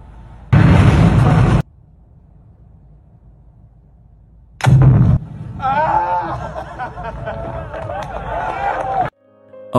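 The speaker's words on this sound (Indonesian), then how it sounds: "Dan akhirnya, bom meledak dengan sempurna." An atomic bomb detonation rendered as two sudden loud bursts separated by silence, the second followed by a sustained rumble under which voices can be heard.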